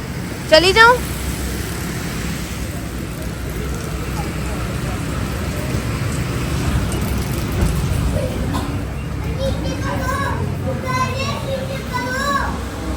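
Heavy rain heard from inside a parked car, a steady broadband hiss and patter across the whole stretch, with children's voices and chatter over it.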